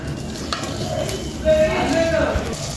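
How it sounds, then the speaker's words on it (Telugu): Masala for stuffed brinjal curry sizzles loudly in a pan while a spoon stirs and scrapes through it, and the frying swells louder partway through. "మసాలా కూడా చక్కగా ఫ్రై అయిపోతుంది"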